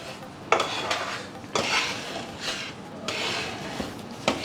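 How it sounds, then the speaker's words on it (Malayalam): A spoon stirs payasam with lentils in a pot on the stove, giving irregular scraping and clinking strokes against the metal, close up, with no talk. "ഇതൊന്ന് തിളച്ച് വരുന്നവരെ ഇളക്കി കൊടുക്കണം"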